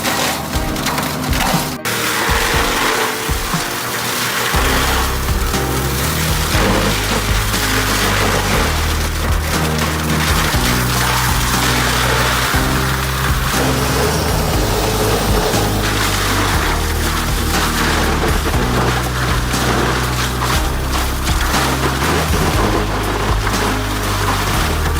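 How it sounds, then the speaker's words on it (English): A powerful grinder mounted on the front of a forward-moving tractor shreds olive tree branches and stumps, a loud continuous roar with constant crunching, splintering wood and a heavy engine drone throughout. "Olive tree branches and stumps are grinded down into fertilizer thanks to this incredibly powerful grinder tool attached to the front of a forward-moving tractor."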